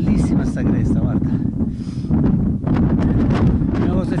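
Wind blows hard across a mountain ridge on the Velino massif, near Pizzo delle Fosse and Monte Orsello. It buffets the microphone with a constant low rumble while a person talks throughout.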